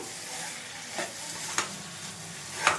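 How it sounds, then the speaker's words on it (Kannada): Sweet corn noodles stirred in a pan over a medium flame: a low continuous sizzle with three distinct spatula scrapes or taps against the pan, close by. "ಒಂದು ಸ್ವಲ್ಪ ಮೀಡಿಯಂ ಫ್ಲೇಮಲ್ಲೇ ಇಟ್ಕೊಂಡು ಸ್ವಲ್ಪ ಮಿಕ್ಸ್ ಮಾಡ್ಕೊಳ್ತಾ ಇದ್ದೀನಿ"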